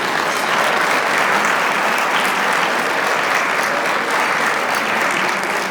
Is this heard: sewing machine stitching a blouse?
no